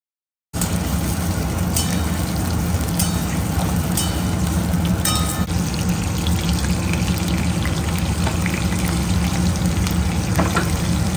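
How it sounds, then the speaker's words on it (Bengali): Cut potatoes fry in hot oil with a loud, continuous dense sizzle and bubbling, close up, with a few faint scrapes scattered through. "এখানে রয়েছে আলু কাটা, পেঁয়াজ কাটা, আলুগুলোকে আমি এবার ভেজে নেব।"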